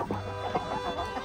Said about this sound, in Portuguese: Olha o galinho fênix.